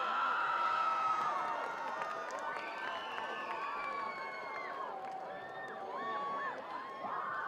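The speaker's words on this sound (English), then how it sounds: "So the crowds are getting into it, as you might expect" A crowd at a high school football game cheers and shouts throughout, a dense wash of many voices with whoops and yells rising and falling, heard from a moderate distance.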